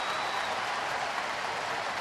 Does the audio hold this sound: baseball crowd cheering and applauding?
yes